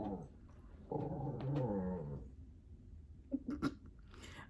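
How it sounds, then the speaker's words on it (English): A dog growls in a low, rumbling stretch lasting over a second at fairly close range, followed by a few brief snuffling or mouthing sounds in an otherwise quiet room. "Y'all hear my dad's dog growling?"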